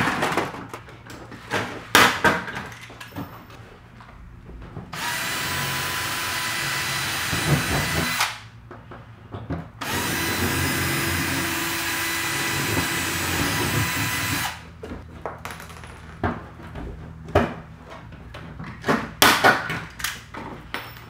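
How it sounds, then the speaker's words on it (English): A power drill bores a second rivet hole through a packing hole while fitting a Sleekline body onto a Club Car golf cart, whirring in two sustained runs of a few seconds each amid clattering handling noises. "I'm going to drill my second hole"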